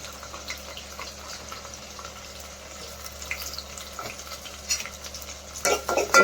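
A spatula stirs cabbage keema fry in a pan: repeated scraping and light sizzling, quiet at first and building to louder, busier strokes near the end, with no speech.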